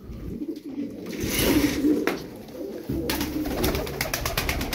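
Tumbler pigeons cooing close by, with soft repeated coos and a steady background of bird activity, no talking.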